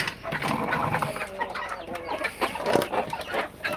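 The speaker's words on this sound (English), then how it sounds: "I don't believe she fed the chickens today." Chickens cluck in a yard at a home on Masbate Island, several birds making scattered, fairly close clucks over a busy outdoor background with no talk.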